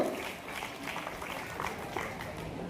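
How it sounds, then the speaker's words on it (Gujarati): Audience applause at a community student award ceremony, a steady, dense clapping wash that continues throughout at moderate volume, with faint crowd murmur underneath. "તો આદિત્યભાઈ માટે જોરદાર તાળીઓ"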